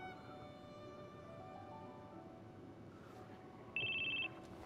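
A telephone in Crisis Core Final Fantasy VII rings with a bright electronic trill in one short burst, heard over the game's soft background music.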